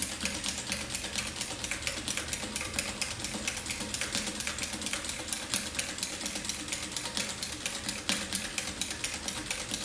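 Industrial sewing machine with a buttonhole attachment stitching a buttonhole in fabric, a fast steady mechanical clatter of rapid repeating needle strokes running evenly and alone throughout at close range.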